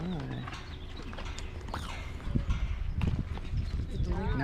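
Horse hooves clip-clopping at a walk, irregular thuds growing louder in the second half, with people talking over them and a few bird calls around.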